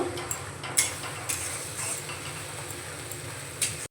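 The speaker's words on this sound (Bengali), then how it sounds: "গ্যাসের ফ্লেমটা মিডিয়ামে রেখে মশলাটা আমি এইভাবে নাড়াচাড়া করব" Masala paste of ginger, garlic and tomato being stirred in a pan over a medium gas flame, with a low steady sizzle and a few sharp scraping clinks of the spoon against the pan.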